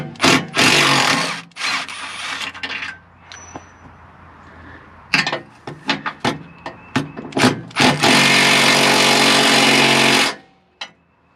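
An impact wrench hammers at 16 mm bolts under a Mercedes-Benz Sprinter van, with loud, buzzing rattling bursts at the start and end separated by scattered clanks and brief mechanical taps.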